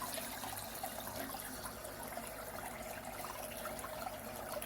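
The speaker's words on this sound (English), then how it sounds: "it's now leaking out the back because I've accidentally pulled the lid up" Water trickling and splashing out the back of a pond pump whose lid has been pulled up, a steady close wash of running water with no talking.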